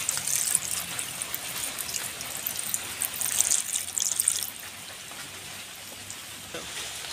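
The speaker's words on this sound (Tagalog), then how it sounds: "Mag-a-add lang po tayo ng 1 cup ng tubig." One cup of water poured into a cooking pot of coconut oil for homemade sardines, a bright splashing gush for about four seconds that then stops, leaving a quieter background.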